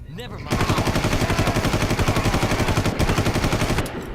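Rapid automatic gunfire in the video game Far Cry, a loud, continuous burst of evenly spaced shots lasting over three seconds after a brief lead-in.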